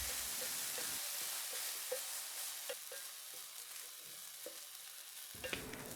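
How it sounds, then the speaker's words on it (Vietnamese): Yangzhou fried rice with egg being stir-fried in a pan, a continuous loud sizzle with scattered scraping clinks of the spatula as the rice is tossed, close up. "Đảo đều nhanh tay."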